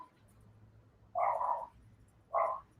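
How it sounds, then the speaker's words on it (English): A dog barks indoors in a house, two separate loud barks about a second apart, each a single full bark standing clear over a low, quiet room hum. "listen to my dog bark."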